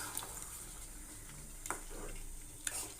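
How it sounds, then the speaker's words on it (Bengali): Crab and potatoes sautéing in a pan with garlic, ginger, onion, green chilli and tomato paste: a faint, steady sizzle with a few soft stirring scrapes and clinks, no talk. "তারপরে কাঁকড়া আলু দিয়ে আবার ভালো করে কষিয়ে নিচ্ছি।"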